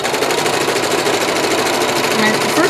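A sewing machine runs a zigzag stitch around a teddy bear gown made for a children's hospital, a steady close mechanical whir lasting throughout, with someone talking over it.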